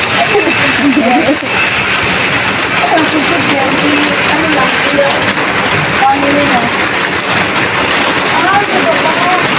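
Steady heavy rain pours down with a constant hiss and patter, with people talking over it.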